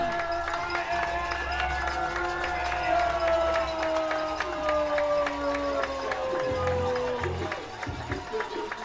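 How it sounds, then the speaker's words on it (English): A baseball crowd at an IBL playoff game, Toronto Maple Leafs at Barrie Baycats, keeps up a steady, continuous roar of cheering with the bases loaded. Its level holds fairly even, then dips slightly near the end. "You might be able to hear all the cheers from the crowd."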